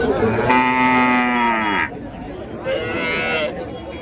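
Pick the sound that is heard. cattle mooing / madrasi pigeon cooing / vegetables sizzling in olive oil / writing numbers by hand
cattle mooing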